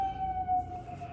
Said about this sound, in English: I hope the siren's not too loud.